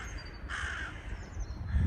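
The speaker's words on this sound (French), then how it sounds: "et les chants des corneilles" Crows caw in the open during a spring thaw, a single loud harsh call standing out above steady background noise, with a low rumble swelling near the end.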